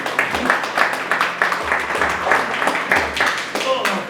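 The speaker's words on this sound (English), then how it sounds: "So please give them a big round of applause." Audience at a horror festival panel claps in a moderate, rhythmic patter, with a voice speaking over the applause throughout.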